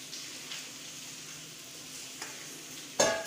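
A spoon stirs Oreo chocolate cupcake batter in a bowl, a soft continuous scraping and swishing up close, ending with one sharp clink against the bowl.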